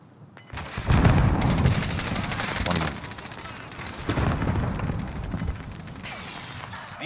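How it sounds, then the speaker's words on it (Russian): Bursts of automatic gunfire from a hillside position in Call of Duty: Modern Warfare, loud and sustained, with rapid repeated shots and heavy battle noise. "Мне с горы стреляют, суки."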